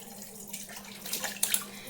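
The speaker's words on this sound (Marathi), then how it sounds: "मी असं नळ चालू ठेवत चालू बंद करून ना भांडे घासत असते" A kitchen tap runs while dishes are washed, a faint, fluttering splash of water with brief louder spurts, heard alone.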